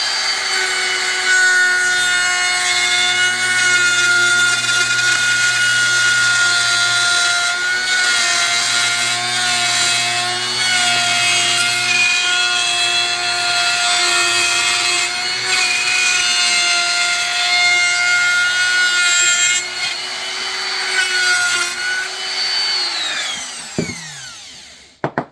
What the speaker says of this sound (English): So to get your final pass, you just want to take the router, drop it down on the table,